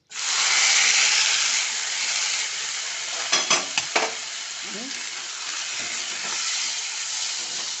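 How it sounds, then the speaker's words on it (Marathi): Boiled grains (ghugrya) dropped into hot ghee in a pan set off a loud, steady sizzle close by, with a few clinks of a spoon stirring partway through. "आणि या तुपात ना मी आपल्या घुगऱ्या टाकते"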